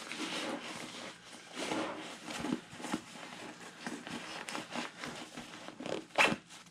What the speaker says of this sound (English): Zip it away.